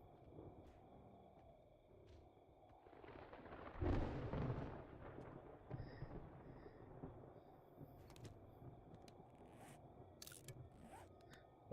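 A storm in the video game 7 Days to Die: a faint low rumbling wind swells into a thunder-like roar partway through, then settles into a quieter rumble with scattered sharp clicks and crackles, no talk.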